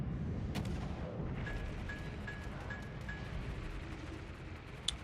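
Warship guns in a naval battle game boom in a low, rumbling barrage over a steady engine-like drone, with a few faint tonal beeps and a sharp report near the end.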